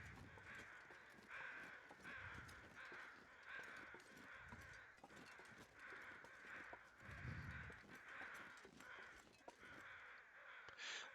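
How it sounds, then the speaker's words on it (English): Crows caw repeatedly in the open air of a dry canyon, their harsh calls coming in irregular bursts across the whole stretch, faint and distant amid low background rustle. "the crows are out there doing what crows do, which is just making a"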